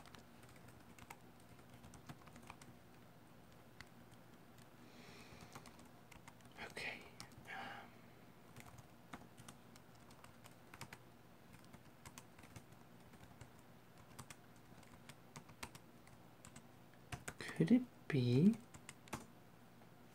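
Typing on a computer keyboard, steady soft key clicks at close range through most of the stretch, with a brief muttered voice near the end.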